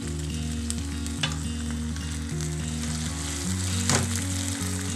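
Ginger paste fries in a pan as the base for a mustard fish curry, giving a steady close sizzle with a faint stirring scrape, under a constant low background hum, no talking.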